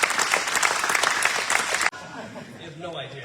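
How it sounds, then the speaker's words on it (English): Audience clapping at a retirement ceremony, a full burst of applause that cuts off abruptly partway, followed by quieter room sound. "Let's give him a round of applause."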